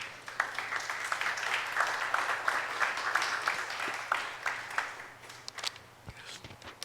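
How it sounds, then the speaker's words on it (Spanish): A church congregation applauding after a sermon line, dense sustained clapping for several seconds that thins and tapers toward the end, with some voices mixed in. "dale un aplauso al Señor"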